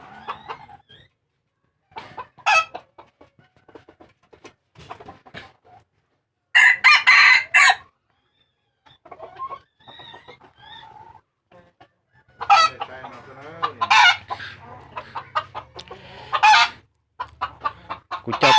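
A rooster crows several times, loud and close, among clucking chickens, with brief pauses between calls.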